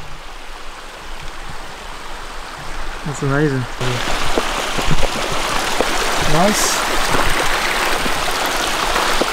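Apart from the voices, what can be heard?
River Tor flowing water on a summer day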